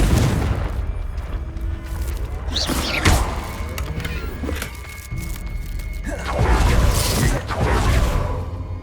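Fiery spell blasts from the Confringo curse boom and whoosh in Hogwarts Legacy, with several heavy thuds and bursts spread through a busy battle mix, and a voice speaking between the hits.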